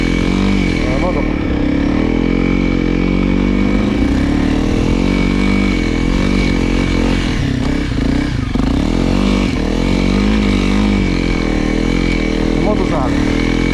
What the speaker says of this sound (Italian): La moto